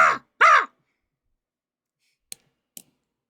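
A person's voice imitates a crow's caw with two hoarse, close calls in quick succession. Silence follows, then two faint clicks.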